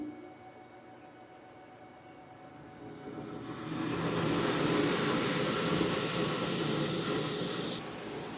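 An inflatable bounce house blower starts up on inverter power and settles into a loud, steady broadband roar that fills the room. Other appliances hum faintly underneath.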